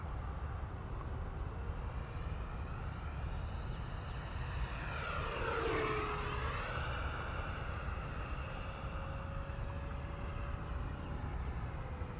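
An FMS 70mm F-18 electric ducted-fan model jet sweeps past in a low pass, its whine rising and then falling as it approaches and recedes, heard at a moderate distance over steady outdoor background noise.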